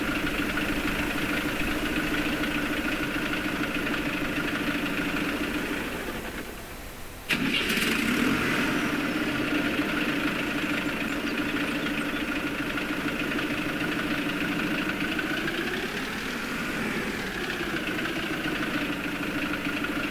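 Kiy 14102 tractor engine in Farming Simulator 22 idles with a steady, loud mid-pitched drone and harmonic hum, with a brief cut and restart of the engine sound partway through before the idle resumes.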